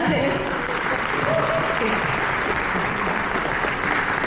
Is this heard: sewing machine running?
no